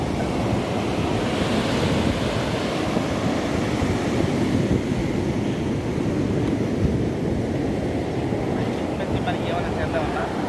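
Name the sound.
ocean waves at a beach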